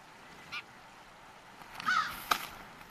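Crows give a few brief, faint caws outdoors: a short call, a pause, then a couple of harsher calls close together over quiet background.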